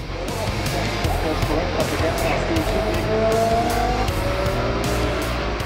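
An Audi GT race car pulls away during a GT race, its engine note rising steadily and loud over a dense background of other cars' engines, with a commentator talking over the top throughout.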